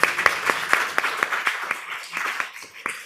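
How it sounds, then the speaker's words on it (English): An audience at a poetry reading at The Dalí applauds, a run of crisp individual claps at moderate volume that thins out over a few seconds. "could we give Helen a round of applause for her work"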